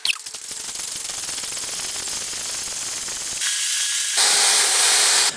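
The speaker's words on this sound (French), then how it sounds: "Allez, on va le brasser pour regarder la consistance." Tile adhesive mortar being stirred: a rattling, scraping churn that turns into a steady loud hiss, growing brighter and louder toward the end, with no voices.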